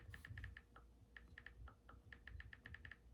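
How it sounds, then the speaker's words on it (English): Keys tapped on a computer keyboard in quick irregular bursts of sharp clicks, fairly close and moderately quiet over a low steady room hum, with no talking. "As I type that."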